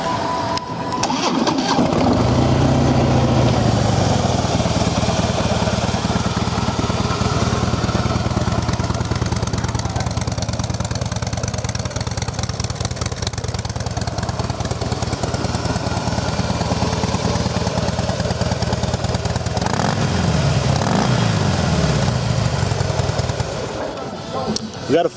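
A Harley-Davidson Softail Breakout FXSB motorcycle with its stock exhaust, recently started, idles loud and close as a steady, deep rumble for over twenty seconds, with a brief shift in pitch near the end.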